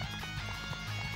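A horse gallops in the video game Warriors Orochi, with rapid rhythmic hoofbeats close up over a busy game soundtrack, briefly and without any talk.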